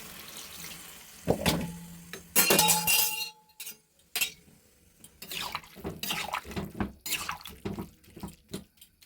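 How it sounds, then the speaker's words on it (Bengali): Water is poured into a pan of gourd leaf curry cooking with fish and green chillies, first as a short splashing gush, then a clink of utensils and a run of irregular sloshing and stirring sounds close up, with no talking. "এর সাথে দিয়ে দেবো জল জল দিয়ে আমি চাপা দিয়ে দেবো একটু"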